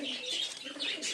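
Giribaz pigeons coo softly in a loft, several low murmuring coos overlapping with faint higher chirps, close but quiet, with no talking.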